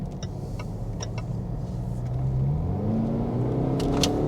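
A smooth car with flappy paddle gears pulls away gently, its engine a low, steady rumble that rises a little in pitch and loudness as it accelerates, with a few faint clicks over the top.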